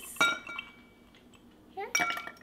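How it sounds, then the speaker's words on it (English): Ice added to a cocktail in a glass: two bright clinking bursts of cubes dropping against the glass with a short pause between them, close and clear, in a quiet room. "And then we are going to just add some ice"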